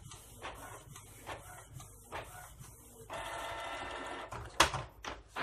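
A Canon G1000 inkjet printer printing after a control-panel ink spill, with repeated mechanical clicks and whirs, then a sustained motorized feed or print-head run, and sharper clacks near the end, close up.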